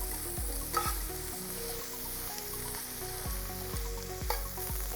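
Morel mushrooms sizzle steadily in butter in a pan, with repeated scraping strokes of a utensil stirring them, close and continuous with no talking.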